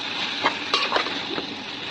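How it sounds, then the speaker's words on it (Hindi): Mustard seeds and cumin tempering in a pan, a steady close sizzle with a few quick stirring scrapes and light clinks of a utensil against the metal. "राई जीरा वो तड़का मैंने लगा चुकी हूँ"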